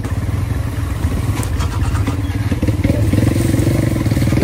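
A motorcycle taxi engine running and revving as it climbs an uphill mountain track on the Mount Raung trail via Glenmore in Java, a loud, close, steady chugging that builds toward the end.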